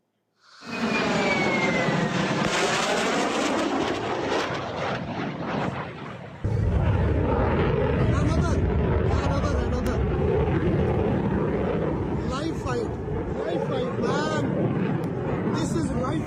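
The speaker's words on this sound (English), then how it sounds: "It looks like a fighter jet chasing a drone right over them." A fighter jet chasing a drone overhead above a Dubai beach, a loud, sustained roaring engine rush with a sweeping pitch as it passes, while voices talk underneath.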